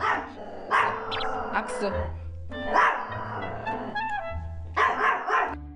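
Dogs barking and yipping in a home during a training session, several sharp barks in bursts mixed with whimpers, with a person talking throughout.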